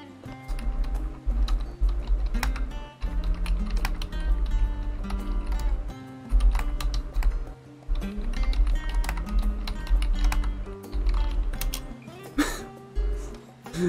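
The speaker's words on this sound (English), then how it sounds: "Let me type as quietly as I can." Soft clacking of a computer keyboard typed on as quietly as possible, steady runs of close key taps with brief pauses, layered over continuous background music tones.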